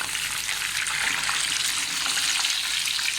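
Chicken tikka pieces fry in a pan over a low flame, giving a steady, close sizzle and spatter that holds evenly throughout with no talking.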